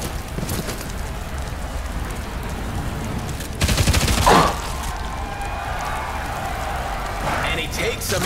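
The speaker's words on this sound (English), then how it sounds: "Some incoming fire while in motion." Incoming gunfire in the video game ShowGunners: a steady crackling rattle of shots runs throughout over a constant noise bed, swelling into a louder, denser burst midway before settling back.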